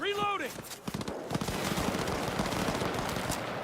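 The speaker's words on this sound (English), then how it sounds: "Who are they shooting at?" Gunfire erupts during a firefight in Cyberpunk 2077, rapid automatic bursts and single shots rattling densely after a brief shouted voice at the start, loud and continuous to the end.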